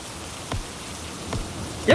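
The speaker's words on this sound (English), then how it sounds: "I can't kill the rain!" Rain sound effect on a video game title screen: soft, steady patter with a few brief louder splashes, continuous and fairly quiet throughout.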